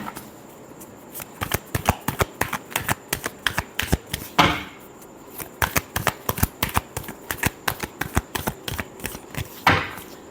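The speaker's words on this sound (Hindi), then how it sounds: "last shuffle" A deck of tarot cards is riffled and shuffled by hand in quick repeated bursts of crisp flapping clicks, close and fairly loud, with a couple of longer riffles breaking the rhythm.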